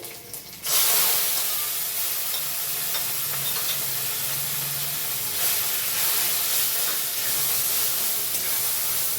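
Black cumin seeds, chopped garlic and bean paste hit hot oil with a sudden loud burst of sizzling, then settle into a strong, continuous frying hiss with faint stirring underneath.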